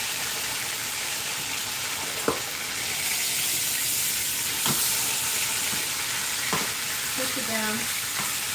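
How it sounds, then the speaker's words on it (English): Pot roast meat searing in an Instant Pot, a steady broad sizzle and hiss running throughout with a few sharp clanks of a utensil, and a voice speaks briefly near the end. "I'm getting a good sear on that."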